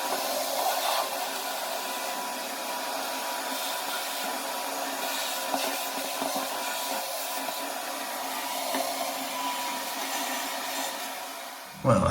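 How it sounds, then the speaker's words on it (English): A steady, loud motor whine with airy suction noise runs continuously for about twelve seconds as a wet vacuum draws water out of a toilet tank, ending abruptly. "Because I want to vacuum the water out of the toilet tank."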